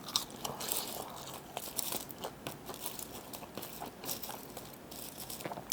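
McDonald's french fries being eaten late at night, with soft crunchy bites and steady close chewing, a few sharper crunch peaks scattered through the quiet, no talking.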